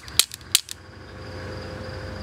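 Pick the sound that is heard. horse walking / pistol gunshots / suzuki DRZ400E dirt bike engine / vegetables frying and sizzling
pistol gunshots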